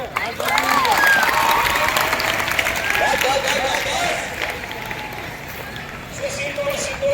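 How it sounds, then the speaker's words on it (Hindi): Students at a school fire safety training drill clap their hands together in a loud, dense burst that tapers off, with shouted voices and chatter mixed in under the clapping. "चलो ताली बजाओ"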